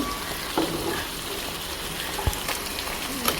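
River puti fish frying in oil make a continuous crackling sizzle, with a few sharp pops and stirring clinks.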